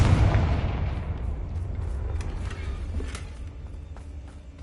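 Confringo fire spell blast in Hogwarts Legacy on PS5: a loud booming explosion at the start that rolls off into a long fading rumble with crackling debris.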